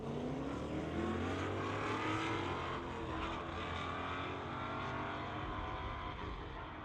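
At a street-legal drag racing night, a GTO launches against a 1995 Ford street car, producing a sustained, broad engine roar heard from a moderate distance, holding steady before easing slightly toward the end.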